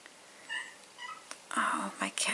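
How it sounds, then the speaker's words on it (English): A house cat meowing to be let outside, a few short, fairly faint mews scattered over a couple of seconds, with a soft whispering voice nearby. "Whenever he meows, I need to open the door."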